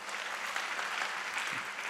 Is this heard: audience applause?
yes